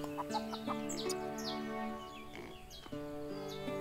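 Hens clucking in the farming game Everdream Valley, several short clucks and calls scattered over a steady background music bed, fairly faint and close.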